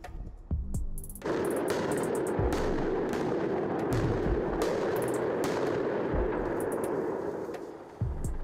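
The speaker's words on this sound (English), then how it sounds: "You might have heard that loud booms in the university area tonight" Heavy, continuous rumbling of distant explosions and rapid gunfire from military training near a university area at night, with sharp booms standing out against a dense, roaring background.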